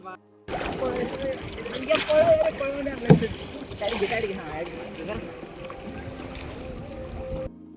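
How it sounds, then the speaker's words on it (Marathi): A kayak paddles through mangrove water along the Konkan coast, with soft splashes and sloshing from the paddle strokes close by while voices chatter throughout. "आता मी पण माझे बोट घेऊन जातो"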